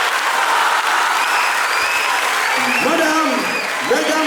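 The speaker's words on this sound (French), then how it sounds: "je vous demanderai d'applaudir" Crowd applause at an outdoor village show on nature conservation, continuous clapping with voices calling out and talking over it in the later part.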